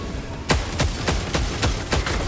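Gunfire in Helldivers 2, five spaced heavy shots booming at a steady rhythm of roughly one every third of a second, loud and close, with no talk.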